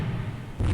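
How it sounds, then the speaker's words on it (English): Warship guns firing in the naval game Rule the Waves 3, a low rumbling background that gives way to a deep, loud boom near the end, with no voices. "Still firing back."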